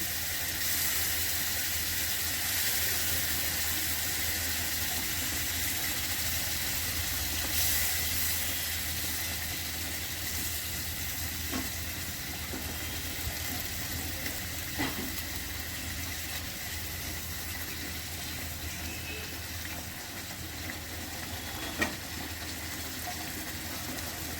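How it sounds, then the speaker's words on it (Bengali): Rohu fish pieces dropped into boiling masala curry gravy give a steady, close, hissing sizzle and bubble that runs without a break, with a few faint clicks near the end. "ঝোলটা ফুটে গেছে আমি মাছগুলো দিয়ে দিচ্ছি"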